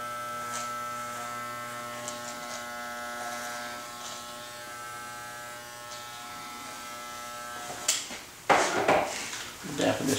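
Electric hair clippers buzz in a steady, close drone with a tonal hum during a haircut, then bursts of handling noise and a voice break in near the end.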